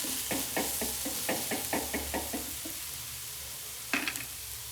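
A jowar dhirde, a sorghum pancake, sizzles on a pan while it is flipped, giving a soft steady frying hiss under a quick run of clattering knocks and scrapes, then a brief pause and one last sharp clatter.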